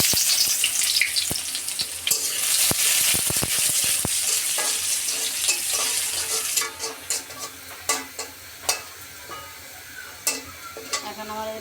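Onions hit a hot pan and fry with a dense crackling sizzle, followed by sharp clinks and scraping of a utensil stirring in a repeating rhythm as the sizzle eases.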